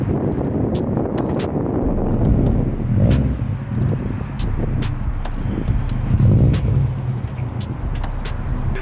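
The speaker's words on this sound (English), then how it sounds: "I just asked Brandon to drive my car around the parking lot just so I can look at it and get footage of it." A purple Subaru car driving around a parking lot, its engine a steady low rumble throughout with brief swells of revving, heard at moderate distance with faint ticking and clicks above it.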